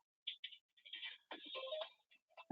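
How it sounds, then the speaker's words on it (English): An inbound phone call rings through a contact center system as a series of short electronic tone bursts, faint and clean against silence. "here's an inbound call. The call is ringing."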